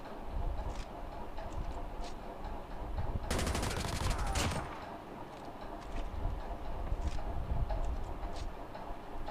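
Call of Duty Mobile gameplay carries a quiet bed of game sound, broken by one dense burst of rapid automatic gunfire lasting about a second, with faint clicks and taps around it.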